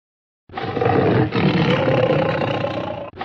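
A tiger roars loudly and close for nearly three seconds. The roar is deep, rough and sustained, with a brief break partway through and a second roar starting at the end.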